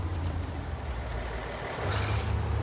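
A heavy truck engine in the Snowrunner off-road game drones low and strains under load, a steady rumble that swells louder near the end, with no talk.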